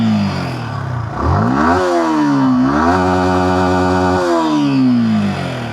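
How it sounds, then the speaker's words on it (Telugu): A 2026 Yamaha R15 V4 motorcycle revs through its exhaust, rising and falling in pitch as the throttle is blipped and held, loud and close with no voices over it. "ఫ్రెండ్స్, ఒకసారి ఎగ్జాస్ట్ సౌండ్ వినండి."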